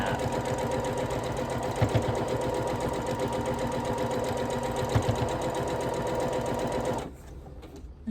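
A sewing machine stitching a quilt, pins being pulled ahead of the needle: a steady, loud, rapid mechanical whir and needle clatter running continuously for about seven seconds, then stopping abruptly into near silence.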